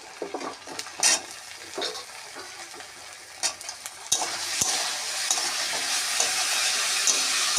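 Drumstick stalks sizzle and fry in a pan for a thin rohu fish curry. The hiss is soft at first with scattered stirring clinks, then grows steadier and louder partway through. No one speaks.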